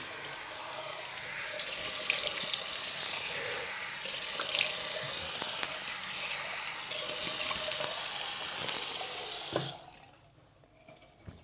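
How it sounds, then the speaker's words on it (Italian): Lukewarm tap water runs steadily into a sink as a face is rinsed, a close, even splashing flow that cuts off abruptly near the end, leaving near quiet. "vado con il risciacquo con acqua tiepido calda"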